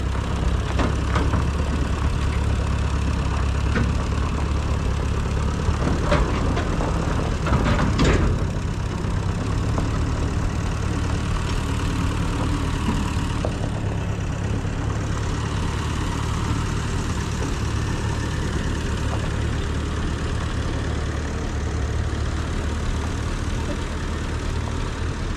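A small Ferguson tractor engine labors under a heavy harvest load, a loud, continuous low drone held steady for a long stretch, with a few sharp clanks and rattles around the middle and no speech.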